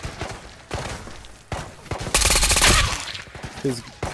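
An AS-VAL rifle in a video game fires rapid suppressed bursts, a dense close volley peaking in a sustained stretch near the middle, with thuds and brief breaks between bursts.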